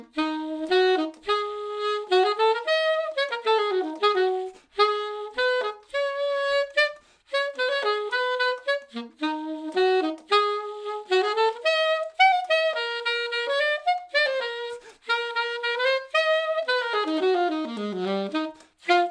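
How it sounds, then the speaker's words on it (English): Solo saxophone plays a hard rock blues study, a fast, punchy line of short repeated notes and quick runs, close and clear, with brief breaths between phrases. "I'll just play it on saxophone because my students are currently playing this on sax."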